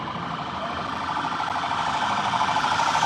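A wailing emergency siren on a street in England, loud and steady throughout, its tone harsh and rough as it rises slightly in volume, with faint traffic noise beneath.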